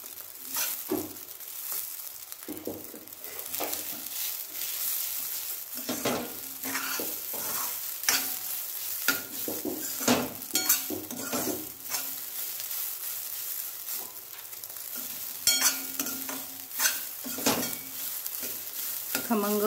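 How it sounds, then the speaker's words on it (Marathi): Rice dry-roasting in a pan for kheer, stirred with a spoon, giving irregular scraping strokes over a light sizzle, close by, with brief pauses between stirs and no talk. "थोडासा कलर येईपर्यंत भाजून घ्यायचे।"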